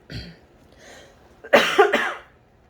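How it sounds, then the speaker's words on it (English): A short cough from someone recovering from illness, then a quiet throaty sound, followed by a louder burst of two harsh coughs close to the microphone. "I'm coughing still from being sick last week"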